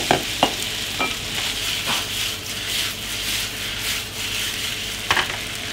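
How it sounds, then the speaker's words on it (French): Chicken sears on high heat in a non-stick pan, a loud continuous sizzle up close broken by a few sharp clicks and taps of a utensil, with no talking. "on va mettre à fond, on va laisser saisir le premier côté et après on va retourner"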